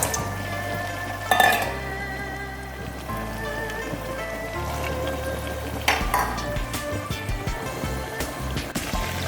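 Fried tofu, cauliflower and bean sprouts dropped into a hot pan with chili oil, giving a steady close sizzle with a couple of louder clattering bursts of ingredients landing and utensils scraping, no speech.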